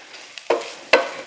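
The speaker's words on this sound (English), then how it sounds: "stir this ham around" Ham and onions frying in a pan, stirred with two sharp scraping strokes over a soft steady sizzle, close and fairly quiet.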